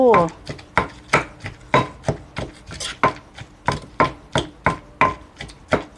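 Boiled eggplant pounded in a mortar for a Thai eggplant soup with mackerel, a steady run of about a dozen sharp, close thuds at a brisk even rhythm, with no voices.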